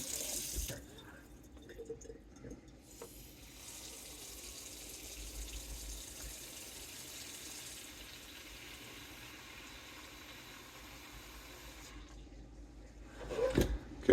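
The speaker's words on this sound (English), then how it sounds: "So we're going to start with the water." Tap water runs steadily into a container in a home kitchen while preparing a no-knead sourdough, a continuous close-up splashing stream with a brief clatter near the end.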